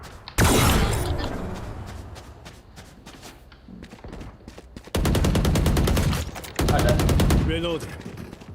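Gunfire in the video game Valorant begins with a loud crack that decays into scattered shots, then two sustained automatic bursts of rapid, evenly spaced rounds, close and punchy.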